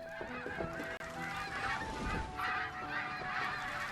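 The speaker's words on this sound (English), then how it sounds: "Why am I hearing ducks? I know I'm hearing ducks." Repeated honking duck calls in an ongoing chorus over a steady video game backdrop, with musical tones underneath.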